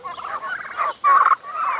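Farm poultry on a central Illinois farm, including ducks, geese and chickens, keep up a steady stream of close gobbling and clucking calls. The bursts run back to back with no talk over them.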